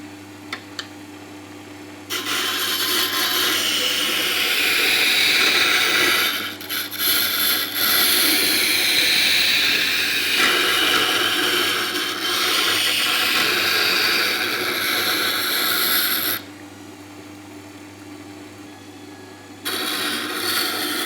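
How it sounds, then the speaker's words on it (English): A woodturning roughing gouge held against a spinning grinder wheel, a steady loud grinding hiss running for about fourteen seconds, with quieter motor hum before and after. "So I can go ahead now and sharpen my roughing gouge."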